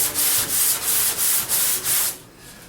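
Primer on a BMW 2002 body panel is hand-sanded in six quick, even back-and-forth rasping strokes, close and loud, then stops.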